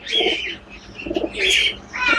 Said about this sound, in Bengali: ডায়মন্ড ডাব যাকে বলে,